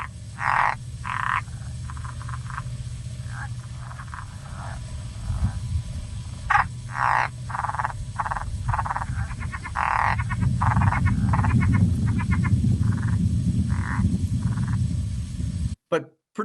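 Frog calls mixing a throaty croak with a laughing chuckle, repeated in bursts over a steady low chorus of other frogs and insects, fairly close and continuous throughout.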